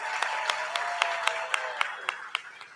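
An audience at a Camp Fire Fort Worth event applauds with moderately loud, scattered clapping and distinct sharp claps at a steady pace, fairly close and without talk.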